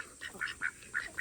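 Ducks quacking in short bursts, four or five calls spaced irregularly, fairly close and moderately loud, with no talk.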